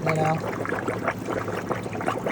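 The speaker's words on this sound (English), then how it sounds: "Water's just shooting all over the place" Water jets and splashes from an aquarium filter with its sponge taken off, a steady close spattering rush running the whole time with faint voices in the background.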